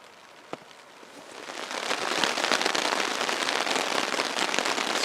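Steady rain pours down outdoors on the Alaskan tundra during a caribou hunt, a broad hissing wash that swells in over the first two seconds and then holds loud and even, with a single sharp tap near the start.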